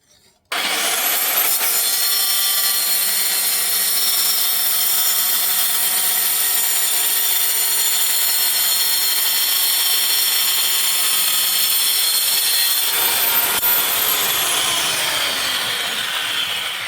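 A handheld cutting machine slices tile pieces for a pillar, giving one loud, steady grinding whine that runs for about twelve seconds before winding down, heard alone without talk.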